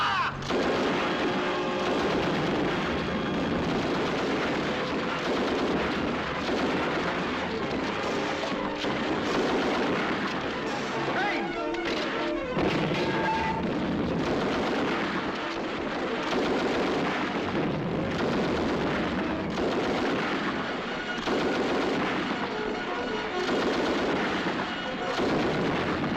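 Battle scene from a 1944 British war drama: continuous heavy artillery and small-arms gunfire, loud and dense with booming blasts and crackling shots throughout, with faint shouting buried in the din.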